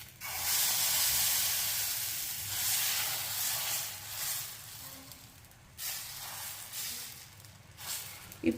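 Jaggery dosa (bellam attu) batter sizzling on a hot griddle, a soft, continuous hiss that swells and fades in waves with a few faint pops and clicks near the end.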